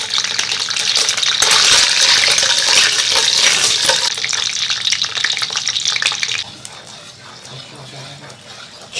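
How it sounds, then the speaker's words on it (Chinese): Oil and sugar frying in a wok for caramel make a loud, dense hiss and bubbling crackle that runs steadily, then drops sharply to a quieter simmer near the end. "锅中加油，炒个糖色"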